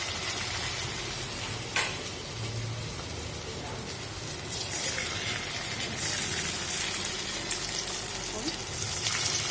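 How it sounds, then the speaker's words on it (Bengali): Round rice pakoras (bhater bora) frying in oil on low heat, giving a steady close sizzle right through, with one sharp clatter early on and a brief burst of bubbling partway. "একটা একটা করে বড়া ভালো করে ফ্রাই করে নেবেন"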